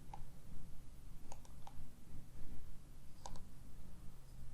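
A computer mouse clicks a few times in short, sharp pairs and singles, spaced irregularly over a low steady hum, fairly close and quiet, with no speech.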